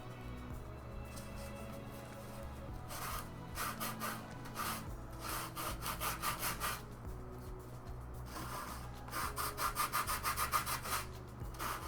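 Coarse 60 grit sandpaper is rubbed by hand on a costume helm piece in rhythmic back-and-forth strokes that come in close bursts over a steady low background hum.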